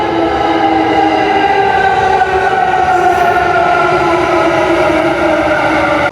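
Train at a station in Japan, a steady loud rumble with sustained tonal whine running throughout, close and continuous with no talk.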